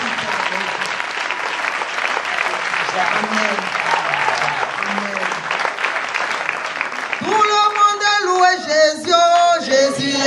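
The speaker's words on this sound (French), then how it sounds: "qu'on acclame le Seigneur" A French-speaking church congregation applauds and cheers in dense, sustained clapping, and music with singing rises out of it near the end.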